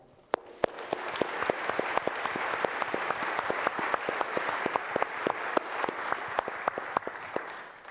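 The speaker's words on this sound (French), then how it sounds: "je voudrais qu'on les applaudisse, et spécialement la famille et le groupe Dassault." Audience at a kidney foundation gala breaks into sustained applause, a dense steady wash of many hands clapping with a few sharper individual claps standing out, continuing throughout without talk.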